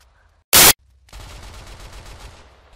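Gunfire in the video game ARMA 3: one sharp, loud blast followed by a rapid burst of repeated fire that fades slightly, close and without talk.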